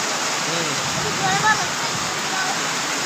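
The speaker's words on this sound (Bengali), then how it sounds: "বৃষ্টির জল পুরো রাস্তায় ভরে গেছে, এত বৃষ্টি হয়েছে।" Steady rushing of rainwater flowing along a flooded street after heavy rain, loud and constant, with faint voices murmuring underneath.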